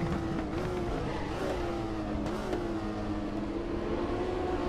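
Rear-wheel-drive classic touring car in RaceRoom at Mantorp Park, its engine droning steadily and close with slight pitch rises and dips as revs shift, continuous and unaccompanied by talk.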